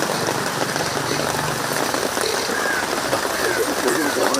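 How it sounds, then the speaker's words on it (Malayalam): Rain falls at a cemetery graveside as a steady, even hiss of drops on surfaces, constant and close throughout with no pauses. "മഴ പെയ്യുന്നുണ്ട്."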